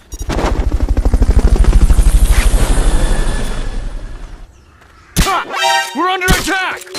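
A helicopter's rotor chops loudly and steadily in Metal Gear Solid Peace Walker HD, then cuts out abruptly, followed by game voices speaking.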